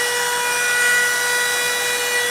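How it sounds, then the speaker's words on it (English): A loud, constant whine of a power router carving plywood, steady and close, with a rough low grind beneath and no voices. "you could probably hear the router in the background"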